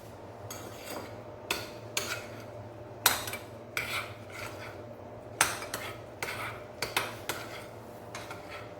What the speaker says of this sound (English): Now we're gonna mix this with a spoon.